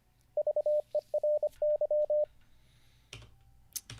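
Morse code is sent as a quick run of clean, mid-pitched beeps in uneven groups of short and long tones, fairly close and clear, followed by a few soft clicks and a quiet background.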